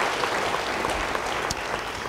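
A church congregation applauding in a large hall, dense continuous clapping from many hands close and loud for the whole short stretch.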